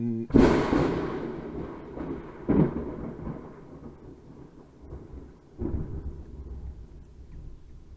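Thunder from a very close lightning strike opens with a loud sharp crack and heavy rumble, followed by further booming rolls that fade into a long low grumble, with a voice faintly present underneath.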